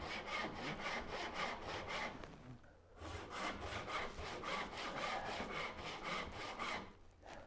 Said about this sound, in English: If not, no reason to once you use a tenon saw.